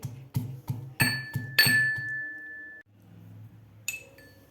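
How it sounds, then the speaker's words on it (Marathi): Garlic, ginger and green chilli are pounded in a mortar and pestle, about six quick, sharp ringing strikes in a row, then a lingering metallic ring and one more hit, close and loud. "खलबत्त्यामध्ये आपल्याला लसूण आलं आणि मिरची थोडीशी जाडसर कुटून घ्यायची आहे"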